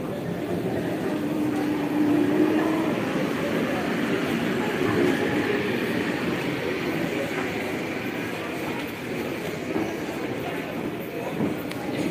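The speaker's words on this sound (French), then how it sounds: "Parce que ça bouge la rame." Lille metro train car rumbling along with a steady low clatter and rattle, heard from inside the car, with people talking over the noise throughout.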